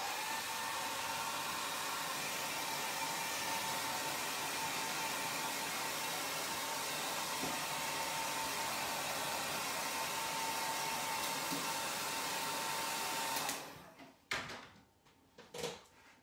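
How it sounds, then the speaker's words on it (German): Hair dryer blowing steadily on a watercolour sketch of figs, a loud, even whooshing roar that runs for about thirteen seconds before cutting off, followed by a few soft knocks and handling sounds. "noch einmal föhnen."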